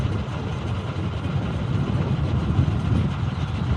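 A train passes nearby with a steady low rumble and rolling wagon noise. The sound holds loud and even for a few seconds with no voices.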